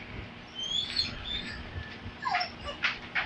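A pet dog whining and whimpering from inside a crate in a home kitchen, thin high-pitched cries coming in short bursts from a little way off, with no talk over it.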